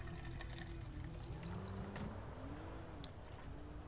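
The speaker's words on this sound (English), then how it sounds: "Does give me a chance to pour myself some sweet, sweet Pepsi Max." Pepsi Max is poured into a glass: a soft, continuous liquid stream with gentle fizzing and bubbling, heard faintly beneath a low steady background hum.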